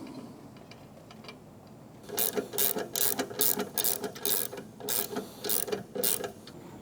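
Washers and nuts are run down on the bracket bolts of a Prinsu Pro Rack on a Lexus GX550 with a ratchet. After a quiet start, a close, steady stream of rapid clicking strokes runs for several seconds.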